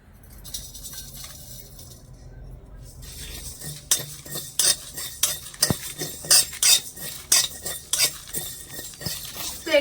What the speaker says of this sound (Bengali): এখানে আমি শুকনো কড়াইয়ে খুব সুন্দর করে এই গোটা মশলাগুলো ভেজে নিয়েছি